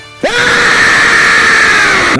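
A person screams in fright, one loud, sustained, high-pitched cry lasting about two seconds that starts abruptly and then cuts off.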